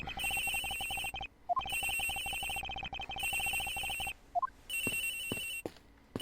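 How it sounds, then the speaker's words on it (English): A phone ringtone in the video game Ace Attorney Investigations repeats in loud bursts with short gaps between them, electronic and steady, close and without any voices. "The ringing is coming from somewhere around here."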